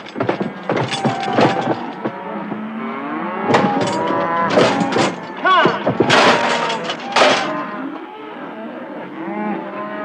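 Beef cattle moo repeatedly while a veterinarian checks each cow for pregnancy on a ranch, long bellowing calls rising and falling in several bursts, with occasional thumps from the pen.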